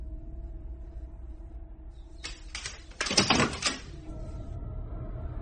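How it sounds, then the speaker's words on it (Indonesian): A door opens as a sound effect in a horror story: a brief rattling creak and clatter of a few seconds over a low steady hum, with no voices. "Suara pintu dibuka"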